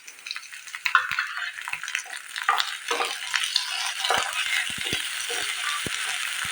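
Garlic and ginger fry in hot oil in a pan, a continuous close sizzle with scattered clicks and scrapes of a spoon stirring throughout.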